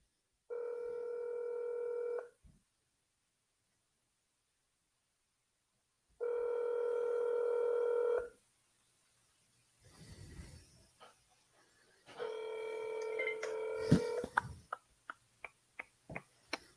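Ringback tone of an outgoing cold call to a for-sale-by-owner home seller: two long, steady ringing bursts separated by silence, a third overlapping some rustling, then a run of sharp clicks and ticks.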